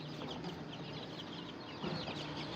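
Chickens cluck softly and steadily in a barn at a ranch with chicks, a busy, fairly distant flock murmur with no talking.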